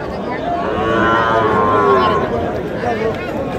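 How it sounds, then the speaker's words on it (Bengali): Cattle at a Faridpur livestock market where young bulls and heifer calves are sold let out a long, loud moo over a constant murmur of crowd noise. "আমরা দেখছিলাম এখানে গরুগুলো দেখছেন"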